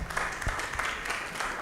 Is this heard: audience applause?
yes